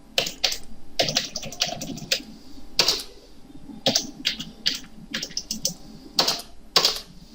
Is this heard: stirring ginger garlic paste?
no